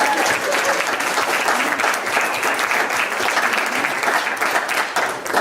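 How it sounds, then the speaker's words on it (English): Loud, dense applause from a large audience, a continuous wash of clapping held at an even level for several seconds, close and full with no voices standing out. "let's give them a round of applause right now"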